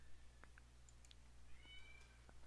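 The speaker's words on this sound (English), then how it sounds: "There's a cat meowing." A cat meows faintly several times at a distance, short scattered calls over a steady low electrical hum in a quiet room.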